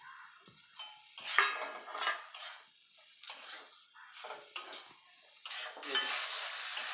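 Pointed gourd (potol) pieces are stirred into spiced masala in a pan, with a spoon scraping and clinking against the metal in irregular bursts over a soft, close sizzle, and no talking.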